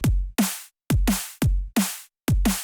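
A looped drum-and-bass pattern sequenced on a K.O.II sampler: punchy kicks alternating with bright, noisy snares in a quick, steady rhythm, with short gaps of silence between hits, played alone and up close.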